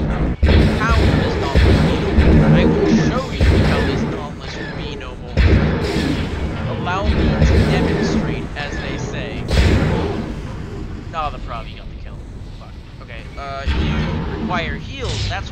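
Ship weapons fire in the space combat game Project Stardust, with loud booming shots and blasts in repeated bursts, mixed with other game sounds; a voice talks over parts of it.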